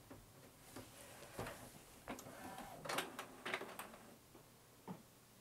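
Epson ET-18100 printer whirring as it detects that the ID card tray is not in place, with soft mechanical whirs, ticks and clicks at low level.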